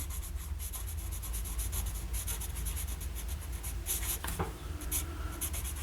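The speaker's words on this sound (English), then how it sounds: "With a broad nib, and this is a really broad writing" A Lamy Safari fountain pen with a broad nib writing on paper, a close, soft scratching made of rapid repeated strokes with short pauses between words, with no voice over it.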